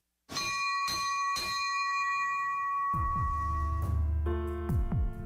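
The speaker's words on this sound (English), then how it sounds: "As we ring the bell to start tonight's game" A bell rings out clearly twice with long ringing tones, then a deeper, clanging bell takes over with a few rapid strikes, in a basketball arena to start a Lakers vs. Minnesota playoff game.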